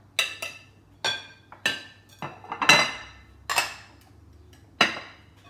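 Flour is being mixed into a citrus cake batter of orange and lemon in a bowl. A utensil clinks sharply against the bowl about a dozen times in irregular, ringing knocks, close and clear, with no talking.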